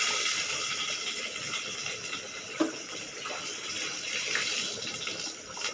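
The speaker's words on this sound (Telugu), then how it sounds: "వాటర్ వేసానండి." Water pours steadily from a glass into a pot of fried rice, a continuous close splashing gush that runs for several seconds without pause.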